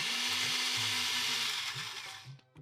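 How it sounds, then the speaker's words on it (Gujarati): A kitchen mixer blends oil, curd and vanilla essence, giving a loud, steady whirring drone that runs continuously and then cuts off abruptly near the end. "હવે આને મિક્સરમાં ફેરવી દઈશું"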